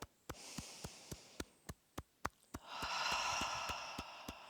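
A person breathing in through the nose and out through the mouth during a wake-up breathing exercise: a slow, soft inhale and a long, airy exhale, close and quiet, over a steady ticking beat.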